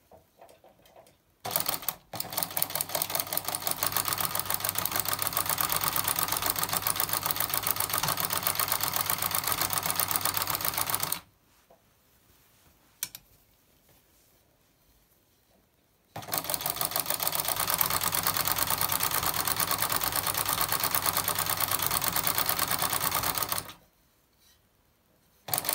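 Sewing machine running a frilling stitch, two long steady bursts of fast even stitching separated by a quiet pause, close and fairly loud with no talking.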